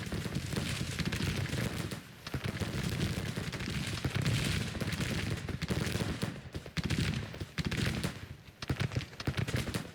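Massed musket volleys crackle and boom across a Civil War battlefield in Grand Tactician: The Civil War, dense overlapping rolls of fire with brief lulls, loud and continuous.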